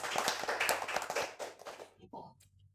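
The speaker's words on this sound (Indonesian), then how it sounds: "Aplaus." Applause from the audience at a live acoustic cover show, a short burst of brisk hand clapping that thins out and fades, ending with a few scattered claps.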